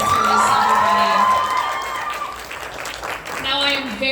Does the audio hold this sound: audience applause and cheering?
yes